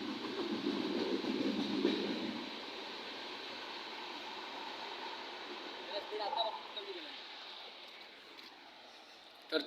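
A train pulls into Kankavli railway station beside the Mumbai-Goa highway: a steady, continuous rail rumble with a sustained high tone. Background voices are faintly mixed in.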